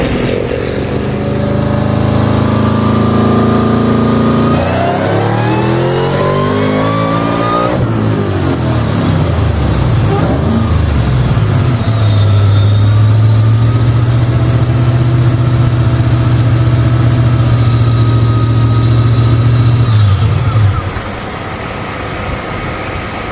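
A 2014 GT500 engine revs hard on a dyno in 4th gear, a loud sustained climbing roar that builds steadily for about twenty seconds before cutting off abruptly, with a rising whine riding over the exhaust drone.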